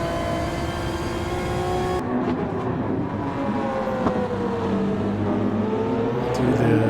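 An all-wheel-drive R32 race car howls in a racing video game, its engine note holding a steady high drone with rising and falling harmonics as it shifts gears, loud and alone.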